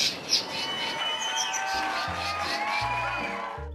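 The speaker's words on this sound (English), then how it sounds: "Our first bird, the leader of the bird party, the southern black tit." A southern black tit whistles a few bright, clear notes against background music and faint crowd-like noise, the calls rising and falling.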